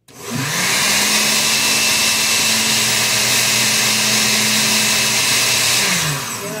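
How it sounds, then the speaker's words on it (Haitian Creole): A blender mixing crepe batter whirs at high speed, starting abruptly, holding a loud steady motor whine for several seconds, then winding down at the end. "Vous couvrez le blender"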